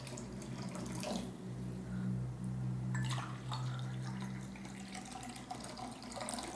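Drinking water pours softly into a glass, a faint trickling splash that rises and falls over a few seconds with no talking.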